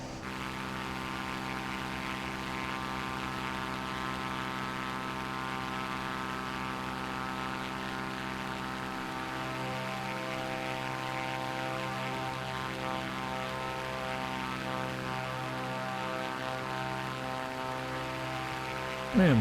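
A Cessna 400TT propeller plane drones steadily in Microsoft Flight Simulator, its engine giving a constant loud, harmonic buzz with slight wavering pitch throughout, heard from outside the aircraft with no talking.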